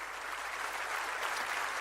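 A church congregation applauds in steady, dense clapping that stays even and fairly loud throughout a brief stretch.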